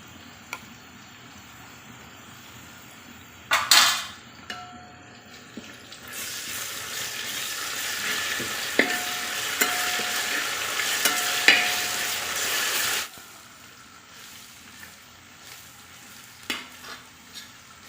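Onions fry in coconut oil in a pan, a loud continuous sizzle swelling in the middle stretch, with scattered clinks and scrapes of a spoon stirring before and after the hiss dies back.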